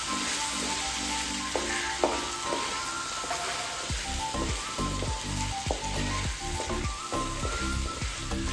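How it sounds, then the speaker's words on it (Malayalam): Small onions fry and are stirred in a pan, a dense, continuous sizzle with rhythmic scraping stir strokes growing busier in the second half, no voices. "ഇടയ്ക്ക് മൂടി തുറന്ന് ഒന്ന് ഇളക്കി കൊടുക്കണം നന്നായി"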